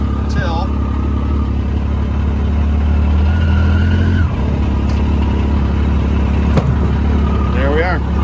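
2016 Yamaha YXZ1000R SE side-by-side with auto clutch idling in first gear, a steady loud engine drone with a slight rise in pitch midway, while someone talks over it.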